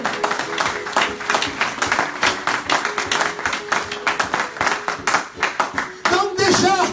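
A church congregation claps and applauds during a sermon, with dense steady hand claps for about six seconds before a voice rises briefly at the end.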